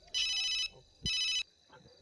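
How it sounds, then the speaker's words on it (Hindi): A phone ringtone sounds twice, bright warbling bursts about half a second long with gaps between, close and fairly loud. "पापा का फोन है।"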